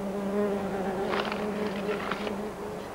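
Wasps buzzing close around pieces of meat outdoors, several overlapping wingbeat drones rising and fading in short passes over a steady low hum.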